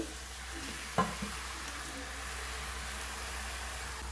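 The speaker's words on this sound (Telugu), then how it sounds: "అలాగే కలిపి పెట్టుకున్న చేప ముక్కలు కూడా వేసుకోవాలండి" Marinated fish pieces fry in a pan for a fish curry, giving a steady, even sizzle with one sharp clack near the start as the pieces go in.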